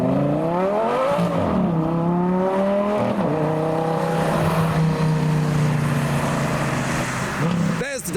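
A Lamborghini LP560 supercar with a spoiler pulls away from the Modified Live car show in heavy rain, its loud, close engine note sweeping down and back up through gear changes, with a sharp burst near the end.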